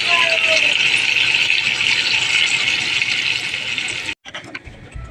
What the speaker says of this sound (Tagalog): Tubig para may sabaw po tayo